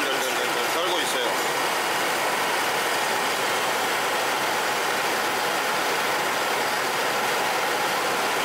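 A Chevrolet Chevy Van with an LPG engine idles roughly after a jump start while the vehicle shakes and its engine warning light is on. The engine gives a continuous, uneven, noisy drone that stays steady and close throughout.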